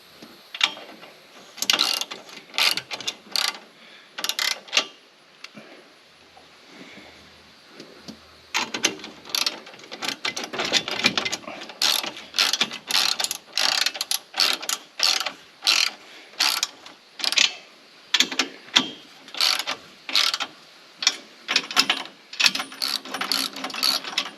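A wrench ratchets repeatedly while installing a shade on a tractor, with close, loud clicking bursts in quick irregular strokes, a short pause partway, then a long run of steady ratcheting.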